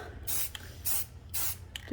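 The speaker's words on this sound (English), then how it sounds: "when I'm spray painting like this and the stuff moves" A spray can paints clothes pin carrots in short, sharp bursts, four quick hissing sprays in a steady rhythm, close and fairly loud.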